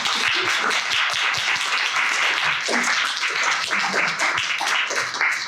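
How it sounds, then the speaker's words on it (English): An audience at a Games Library Night event in 2023 claps: dense, continuous applause from a crowd fills the whole stretch at steady loudness, with no talk over it. "we really need to have a big round of applause to all the people that make this possible"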